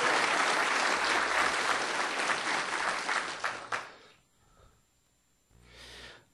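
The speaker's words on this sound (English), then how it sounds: "Yes, applause, applause," Applause from the audience at a spring university mathematics graduation ceremony fills the room for about four seconds, then drops off, followed by a short second patter of clapping.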